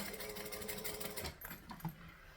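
A sewing machine runs steadily while stitching around a fabric circle bag, a close continuous hum that ends in a few brief clicks and taps.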